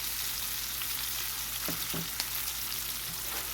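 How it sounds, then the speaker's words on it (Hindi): Fish frying in hot oil, a steady close sizzle and crackle throughout with a few faint clinks, no talking. "देखिए कितनी ज़बरदस्त माशाल्लाह जो ये फ्राई हो गई है"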